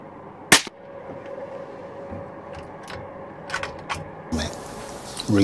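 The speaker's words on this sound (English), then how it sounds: "It was a straightforward shot at 60 yards." A single sharp rifle shot at a fox cracks out near the start, then a quiet outdoor background with faint mechanical clicks, likely a reload, and a voice speaking near the end.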